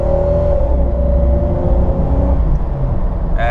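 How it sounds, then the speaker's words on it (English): A Jeep Cherokee Sport XJ engine drones under full acceleration, a loud, steady, close hum that rises slightly in pitch, with no talk over it. "I'm gonna go ahead and do a full acceleration."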